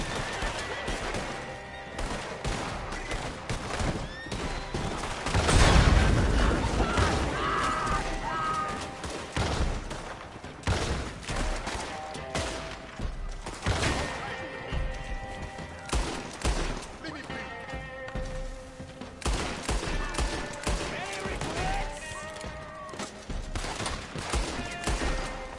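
Gunfire in Red Dead Redemption II, a gunfight rattling with rapid overlapping shots and bursts, dense near the start and continuing in scattered volleys under ongoing game sounds and talk.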